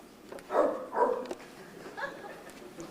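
During a middle school stage play, a performer voices a dog with a few yappy, barking calls in quick pairs, moderately close in an indoor hall.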